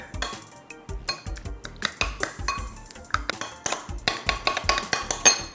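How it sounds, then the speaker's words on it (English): A spoon repeatedly clinks and scrapes around a bowl while salsa sauce of tomato, Worcestershire, lime juice and salt is stirred, a steady run of sharp close taps and knocks with no talking. "Stir that up."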